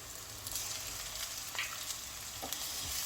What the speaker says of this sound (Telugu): ఇదంతా పచ్చివాసన పోయేదాకా ఒక 2 to 3 minutes ఫ్రై చేసుకోవాలి.